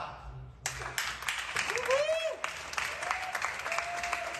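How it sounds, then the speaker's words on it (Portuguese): Applause from a theatre audience at Teatro São Luís breaks out after a quiet moment and holds as dense clapping, with a voice speaking over it. "artista que foi então aplaudida também pelo público no próprio Teatro São Luís"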